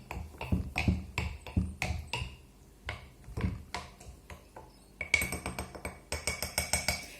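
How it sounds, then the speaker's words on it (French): A spoon taps and clinks against a glass carafe as a lemon juice drink is stirred, in a fairly regular series of close knocks that turn into brighter, quicker clinks toward the end. "donc on mélange le tout très bien"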